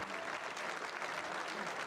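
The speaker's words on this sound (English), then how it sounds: "A big, big cheer from the pit lane." Cheering and applause from the pit lane at the Circuit de Barcelona after GT Europe Race 1 in 2024 as winners raise their trophies, a continuous, somewhat distant wash of clapping with crowd voices mixed in.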